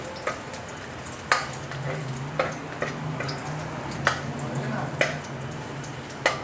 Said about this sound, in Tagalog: Kailangan natin papulahin ang ating bawang.